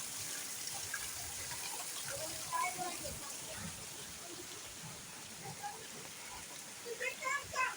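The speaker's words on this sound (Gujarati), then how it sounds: "વરસાદ એક નંબર આજ તૂટી પડ્યો" Heavy rain pouring down on farm fields flooded with water, a steady broadband wash with some intermittent voices talking faintly over it.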